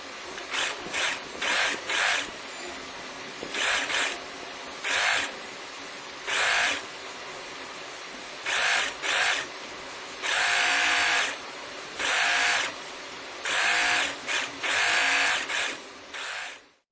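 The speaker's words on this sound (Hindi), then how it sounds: "हमें स्टिच लेना होगा यहाँ से।" Sewing machine stitching the seam of a one-shoulder umbrella dress, fast mechanical whirring that comes in short repeated bursts of one to two seconds with brief pauses between, close and fairly loud.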